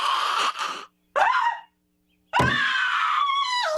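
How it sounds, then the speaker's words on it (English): A cartoon boy from The Simpsons' Treehouse of Horror screams, then gasps sharply for air, then lets out a long, strained wail, three loud bursts separated by brief silences. "The scene with Martin screaming, gasping for air, and eventually dying in the classroom"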